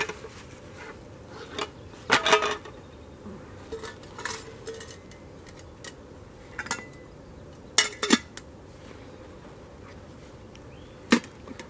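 A camping frying pan and plate are handled outdoors, with scattered metallic clinks and knocks standing out over a steady background hiss.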